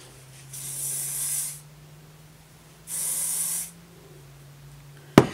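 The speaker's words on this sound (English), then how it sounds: "Put some hairspray on it." Hairspray sprayed onto teased hair during beach-wave styling: two separate hissing bursts, each lasting about a second, close and loud over a faint hum. A short sharp click comes at the end.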